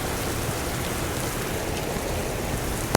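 Steady rain falling in Houston, a dense, even hiss of drops on surfaces that holds constant throughout, with no voices over it.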